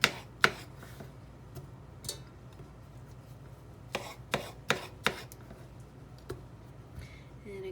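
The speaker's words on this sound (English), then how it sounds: "I'm really dicing them, and then I'm just tossing them into the pan." A knife dices peaches on a cutting board for a peach chutney, giving sparse, sharp chopping knocks: a few early cuts, then a quick cluster of firm strikes midway, over a quiet kitchen background.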